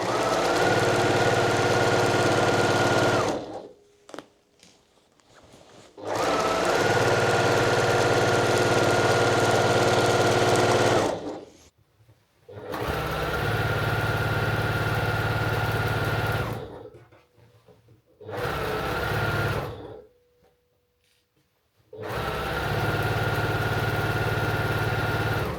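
A sewing machine runs at medium speed in bursts of steady, even whirring and rapid stitching, several runs of a few seconds each separated by short silent pauses, close and clear with no voices.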